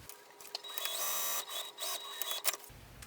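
Sewing machine stitching fabric between two intersecting lines on an organizer's lining, a steady whirring run of a couple of seconds with short starts and stops, close and alone.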